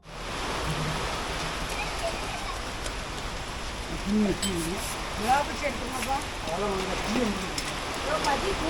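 Steady rain falls in a dense, even hiss, while voices talk intermittently over it in the middle and later parts.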